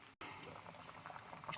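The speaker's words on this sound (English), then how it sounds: "You want it to be bubbling like that." Creamy chicken soup bubbles steadily as it boils in a pot, a dense, continuous simmering fizz with small pops after a brief gap at the start.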